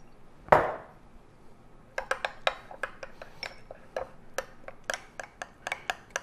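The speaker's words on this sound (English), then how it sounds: "Then we're gonna mix that with some olive oil." Garlic paste being mixed with olive oil for a Detroit-style pizza, a quick series of light metallic clinks and taps of a utensil against a bowl, preceded by one louder knock, close and with no talk.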